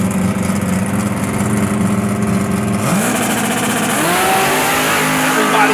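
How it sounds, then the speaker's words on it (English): Street-legal drag race cars launch side by side off the starting line at a drag strip, engines roaring loud and close, then rising in pitch as they accelerate away toward the top end. "Everybody's in the instant green start, side by side off the starting line and heading out to the top end"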